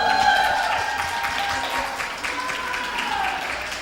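Student union election audience applauding the candidates standing for media officer, a broad wash of clapping that fades gradually, with voices faintly audible beneath.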